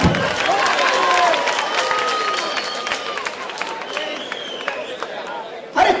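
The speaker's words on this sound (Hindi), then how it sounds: "ठोको ठोको ताली।" A crowd at a political rally claps and cheers loudly, with shouting voices mixed into the applause, which eases slightly before a fresh burst at the end.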